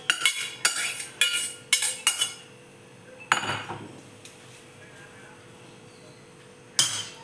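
Cooked rice being mixed with vangibath paste in a metal vessel, a run of clinking spoon-on-pot scrapes and taps in quick bursts, then a pause and a few more strikes.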